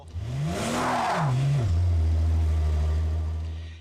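A Rolls-Royce Wraith undergoing full restoration, its engine revving up and then easing back to a low steady hum as the car is driven slowly, close and loud with no talk.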